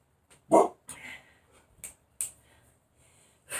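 A dog barks at neighbors passing by outside: a few sharp, separate barks and yips with short whimpering sounds between them, near and fairly loud, with no talking.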